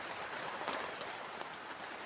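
Rain falls at night over a campsite, a soft, even patter with scattered sharper drops striking a surface, faint and steady throughout.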